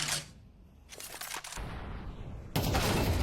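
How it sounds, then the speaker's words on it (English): Gunshots in a Counter-Strike match, sharp bursts of rapid gunfire that cut in and out, the loudest volley at the end, with no talk. "Last round of the half as Blitz is missing shots"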